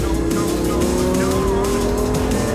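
A Lamborghini Gallardo LP 570-4 Superleggera braking hard on a Las Vegas racetrack, with a loud, close engine tone shifting pitch through the whole stretch and a faint squeal of tires.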